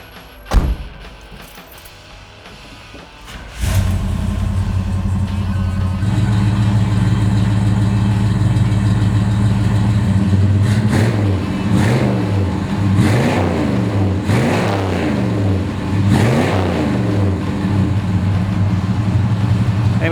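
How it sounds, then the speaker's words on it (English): A 454 V8 engine in a 1971 Chevrolet El Camino SS cranks and catches, settles into a loud, rumbling idle, then revs up sharply several times in a row, close by. "How about I start it for you so you can hear what it sounds like."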